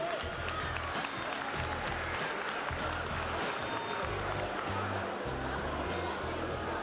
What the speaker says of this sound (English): And give Big Shot Camp a big round of applause.